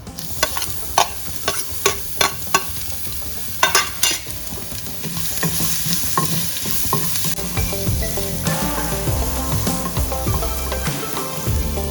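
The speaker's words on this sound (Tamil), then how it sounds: "இதை அப்படியே சாட் பண்ணிவிட்டு ஒரு 30 செகண்ட்ஸ் போதும்" Crushed garlic and pinched chillies sautéing in a pan for tomato kuzhambu, a continuous oily sizzle with sharp clicks and scrapes of a spoon stirring, loud and close with no voices.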